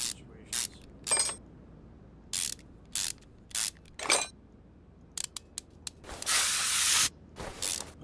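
A car part is sprayed down in Car Mechanic Simulator 2021, with a sustained hiss near the end among short ratcheting and mechanical clicks in separate bursts.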